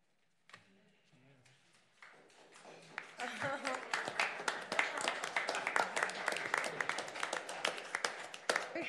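A small crowd at a city council meeting breaks into applause, many hands clapping steadily at moderate volume after a few seconds of quieter voices and rustling.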